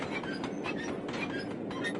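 Rumbling train in the Sly Cooper 2 video game, a dense continuous rail roar with faint rhythmic clatter and occasional metallic glints, steady and fairly close throughout.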